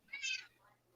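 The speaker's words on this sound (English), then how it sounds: "Is he meowing into the microphone?" A cat meows close to a microphone, one short bright call near the start followed by quieter trailing sound and faint background hum.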